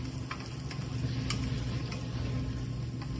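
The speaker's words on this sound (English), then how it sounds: "give them a little stir here" Mushrooms stirred in a frying pan, a steady soft sizzle running throughout with a few faint scraping ticks from the utensil, close and moderately quiet.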